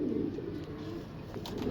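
A purebred performance pigeon coos softly in a low, rolling murmur that continues through the whole moment, faint and fairly close, with no talking.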